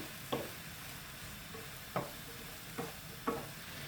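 Apples and vinegar stirred in a pan on a cooker, giving a low steady sizzle broken by four short scraping strokes of the spoon, quiet and close with no talking.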